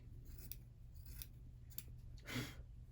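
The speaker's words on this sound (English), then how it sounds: "You want to try to cut as close as you can to the batting without cutting the stitching." Scissors cut fabric close to machine-embroidered stitching on a coaster, making four soft, separate snips spaced about half a second apart, faint and close, with the last one slightly longer and louder.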